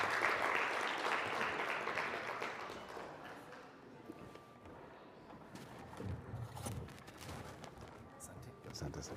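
Audience applause after a stage performance at the Pan African Conference, a dense burst of clapping that starts loud and tapers into a softer, scattered patter with some background noise.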